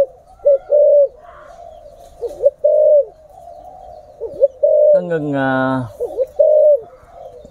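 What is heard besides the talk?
pigeons cooing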